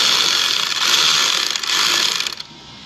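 A power tool in tightening mode drives a bolt on a 2007 Saturn with a 3.5L engine. It gives a loud, close, continuous whirring buzz that drops off abruptly near the end.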